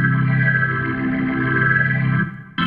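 Sustained synth tone from HALion Sonic 3 run through its phaser effect, holding a steady chord for about two seconds before cutting off into a brief new note.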